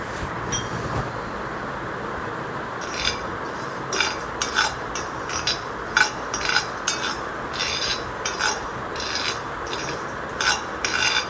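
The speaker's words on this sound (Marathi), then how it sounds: "डाळी प्रथम आपण एकत्र भाजून घ्यायच्या आहे मंद आचेवर भाजायचं आहे" Dry lentils are roasted over a low flame in a pan while a spoon stirs them, giving repeated scraping and rattling strokes with faint clinks over a steady background hiss.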